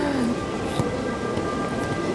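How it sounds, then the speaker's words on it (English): Rain falling outdoors on a city street in Italy, a steady soft hiss filling the background with a faint low rumble and one brief tap. "Oh, yep. It's raining."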